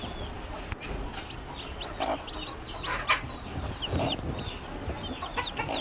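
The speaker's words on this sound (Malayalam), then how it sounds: "നാടൻ കോഴി കുഞ്ഞുങ്ങളാണ്" Small native country chicken chicks peep in quick, high chirps amid steady clucking from nearby hens, a busy, continuous barnyard chatter with no talking.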